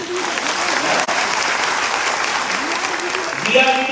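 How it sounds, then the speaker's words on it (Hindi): A seminar crowd applauds steadily, dense continuous clapping from many hands with a voice speaking over it near the end. "इनके लिए तालियां बजा लीजिए"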